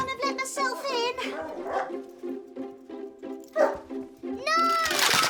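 A dog barks and yips a few times in an indoor family setting, its short calls mixed in among children and adults talking close by.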